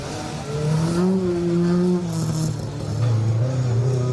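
A rally car drives a circuit stage, its engine note rising and falling through gear changes at moderate distance, with a faint squeal of tyres.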